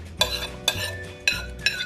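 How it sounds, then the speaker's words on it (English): Shrimp and vegetables being mixed together in a bowl for egg rolls, with four distinct scraping clinks of a utensil against the bowl at an uneven rhythm, close and moderately quiet. "We're gonna mix in everything now."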